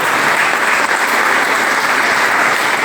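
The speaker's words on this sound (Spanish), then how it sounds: "Denle un aplauso al Señor." Steady, dense applause from a church congregation during a Spanish-language sermon, loud and continuous for its full length with no voices over it.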